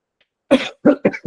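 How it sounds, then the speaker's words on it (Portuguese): Three or four sharp coughs from a man with a cold come in quick succession after a brief silence, close and fairly loud, with no talking. "Eu peço desculpa se eu tossir hoje aqui, pouco, peguei um resfriado"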